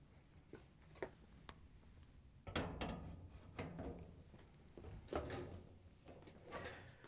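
Top panel of a GE washer set down and pushed back to lock into place, giving a series of clunks, clicks and sliding scrapes, some sharp and close, over a quiet background.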